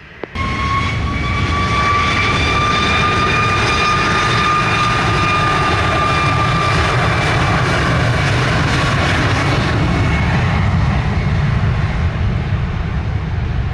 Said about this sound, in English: Takeoff runway 25, Southwest 907.